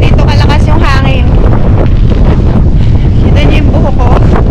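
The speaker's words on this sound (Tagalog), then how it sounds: "ganito kalakas yung hangin" Strong wind blusters over snow outdoors in Finland, a loud continuous roar buffeting the microphone, while a person talks over it.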